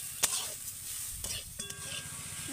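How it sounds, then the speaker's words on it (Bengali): Grated coconut is stirred with sugar in a pan for a palm-fruit pitha filling. A few scraping and knocking stirring strokes sit over a soft sizzle, close and brief, with no talk. "এবার চিনির সাথে আমি নারকেলটাকে ভালো করে এইভাবে মিশিয়ে নেব"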